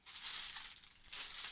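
A sheet of plain paper is unfolded and crinkled, giving soft, continuous rustling and crumpling at close range, with two brief pauses and no voices.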